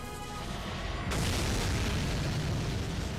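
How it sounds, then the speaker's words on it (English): A magical explosion in a video game erupts as a sudden loud, broad booming burst about a second in, then sustains as a dense roaring wash to the end. "So, magical explosion."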